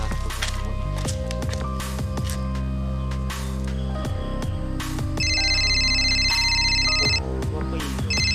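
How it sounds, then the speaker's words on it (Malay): An electronic telephone ringtone sounds loudly and repeatedly, a melodic tone pattern that keeps cycling, with a brighter trilling ring joining in partway through, heard in a dramatic scene from an Acehnese film. "Telefon tu."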